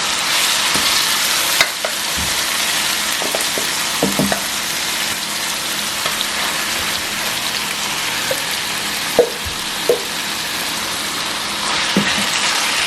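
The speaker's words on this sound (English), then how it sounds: "So now I'm gonna add this ground beef here." Ground beef sizzles and crackles steadily in a hot pan, a dense continuous frying hiss with occasional louder pops and scrapes of stirring, no voices.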